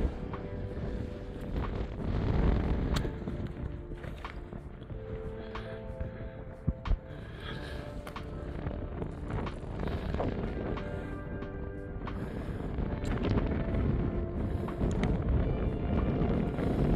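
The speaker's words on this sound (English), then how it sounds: "The wind has picked up." Strong wind roars across a mountain summit in Glen Lyon, Scotland, buffeting the microphone with continuous heavy low rumble and gusty surges throughout.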